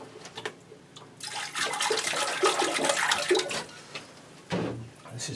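Water poured from a can onto potted orchids, a steady splashing and gurgling stream lasting several seconds, then a brief pause and a second short splash, close up and alone.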